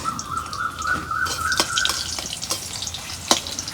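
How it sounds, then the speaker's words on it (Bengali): Chickpeas cooking in a pot, a soft continuous bubbling and sizzle with scattered clicks and light stirring taps, close and moderately loud, with no talking. "এখানে বুট রান্না হচ্ছে"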